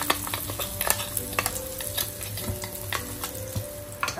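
A ground masala paste fries in hot oil with crushed garlic cloves, crackling and spitting up close with rapid irregular pops over a continuous sizzle, and a few utensil scrapes, no one talking.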